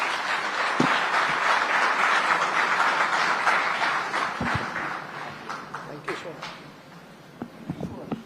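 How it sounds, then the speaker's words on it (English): An audience at a political event applauds the Chief Minister of Andhra Pradesh with loud, sustained clapping that gradually thins into scattered individual claps. "Jagan Mohan Reddy, ladies and gentlemen, please give him a very big hand."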